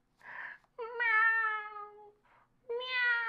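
A voice imitates a cat with two drawn-out, tonal meows, clear and close, separated by soft breathy sounds.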